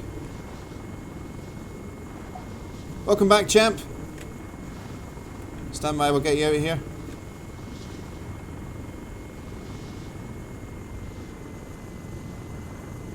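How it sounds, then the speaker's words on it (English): Helicopter flight in the video game Arma 3, with a steady rotor and engine drone running through the whole clip while two short bursts of radio-style speech cut in over it. "I'm actually flying a helicopter while reviving someone that's dead in the back"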